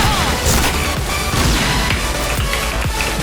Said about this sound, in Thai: อัดระเบิดเข้าไปดีกว่ามั้ง